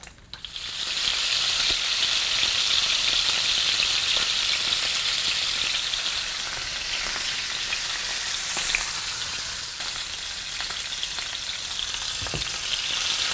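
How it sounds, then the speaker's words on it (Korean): Pork belly for chashu searing in a pan, a loud, even, close hiss of frying fat that holds steady and eases slightly toward the end, with a few faint pops. "시어링을 충분히 하셔야 고기가 더 맛있어요"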